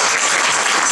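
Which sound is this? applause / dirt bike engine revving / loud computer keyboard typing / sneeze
applause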